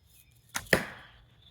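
Hazel arrow loosed from a bow, heard as a sharp snap followed a split second later by a louder thump that rings briefly and decays, set against a quiet outdoor background with no talking.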